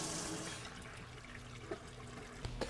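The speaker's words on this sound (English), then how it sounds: "take a hose, rinse out the sidewalls of the scrubber itself, and watch it flow out of the recovery hose until you have clear water" Rinse water flows out of the recovery hose of a Viper Fang 20 auto scrubber, a faint, steady gush and trickle with a few small splashes and knocks near the end.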